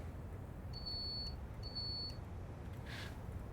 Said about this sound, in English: This guard buzzer sounds a bit meek.